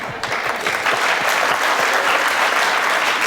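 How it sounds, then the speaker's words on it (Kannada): A studio audience breaks into sustained, dense applause during a televised interview with a ghazal singer, a close, steady clatter of many hands with no voices over it. "ಕೆಲವೊಮ್ಮೆ ಚಪ್ಪಾಳೆ ಯಾವಾಗಾದ್ರೂ ಹೊಡಿತಾರೆ"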